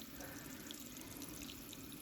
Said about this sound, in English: I just fill this laundry tub full of snow and then run water in it